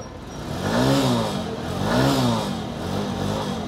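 A 2022 Suzuki GD 110 motorcycle engine running steadily, with a smooth mid-pitched hum that swells slightly in gentle waves, close and loud, no talk.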